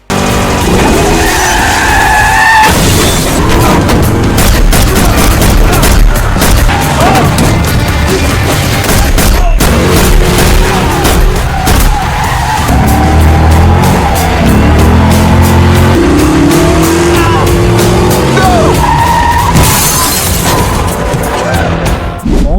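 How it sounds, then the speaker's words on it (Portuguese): Movie car chase with cars colliding and gunfire: loud tire skids and engine roars broken by sharp crashes and impacts, continuous and chaotic throughout, with brief shouted voices in the mix. "Uma perseguição intensa começa, com os carros colidindo e bala voando para todo lado."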